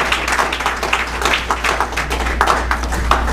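An audience at a church service applauds steadily, a dense continuous clapping of many hands at moderate volume with no talking over it.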